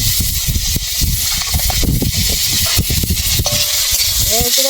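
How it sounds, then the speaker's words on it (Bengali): Lafa greens with turmeric fry in a pan, giving a steady loud sizzle with scraping stirs throughout, and a brief voice near the end. "একটু ভেজে নেব।"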